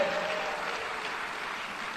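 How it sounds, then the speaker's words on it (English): Sustained audience applause fills a conference hall at an accounting association's annual event as the executive chair walks up to the stage, a dense steady wash of clapping from start to finish. "Please keep applauding as he makes the long walk"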